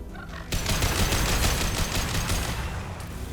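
Rapid gunfire from Mass Effect 2 weapons loaded with new ammo rounds starts abruptly and continues as a dense, loud rattle of close shots for about three seconds, with no talking over it.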